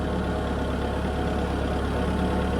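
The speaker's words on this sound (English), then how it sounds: "So I'm having to use the tractor" A tractor engine runs steadily in a low, even idle-like drone on a garden property, with no talk over it.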